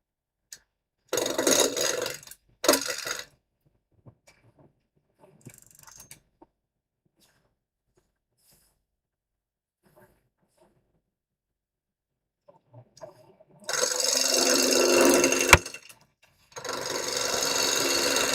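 Wood turning on a lathe, with bursts of rough scraping and cutting as the tool meets the spinning piece, separated by quiet pauses, close and fairly loud.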